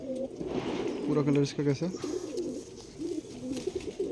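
Pigeons coo softly in a breeder's loft, low throaty calls repeating under a voice speaking nearby.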